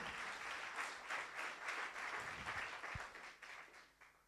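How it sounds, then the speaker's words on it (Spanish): Congregation applauding in a church service, a steady dense patter of many hands that swells and ebbs, then fades near the end, moderately distant with no talking over it. "Denle un aplauso a Cristo"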